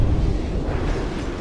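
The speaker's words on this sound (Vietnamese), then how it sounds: "Nó nổ ra hả?" In Crysis Remastered, an explosion gives a loud, deep, rumbling roar that fills the whole moment and keeps churning, with no talking over it.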